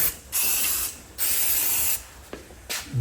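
Aerosol cleaner sprayed during an oil change on a John Deere D105 lawn tractor: three loud, close hissing bursts about a second long each, with small mechanical clicks between them.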